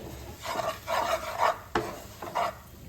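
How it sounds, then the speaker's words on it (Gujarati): Traditional Gujarati lapsi of roasted flour being stirred slowly in a pan over a low flame: several soft, close scraping strokes in an uneven rhythm, faint overall, with one sharper tap against the pan midway and no talking. "આ રીતે ધીમે ધીમે હલાવતા જઈ આપણે તેને બધું સારી રીતે મિક્સ કરી લેવાનું છે."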